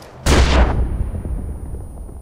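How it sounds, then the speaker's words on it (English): A grenade blows up close by in the video game Far Cry 4, a sudden heavy boom with a deep rumbling tail that slowly fades over about two seconds. "Oh shit, grenade!"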